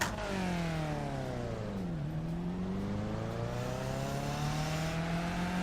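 Race car in a racing video game launching from the start at VIR North, engine revving hard and rising through gears with a brief dip, loud and continuous with no talk.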